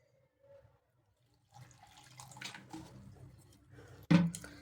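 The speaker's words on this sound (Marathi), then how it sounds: "पाणी घालायचं आहे थोडं" Water trickles and splashes into a mixer jar holding semolina, starting quietly and ending with a louder pour, with no talking.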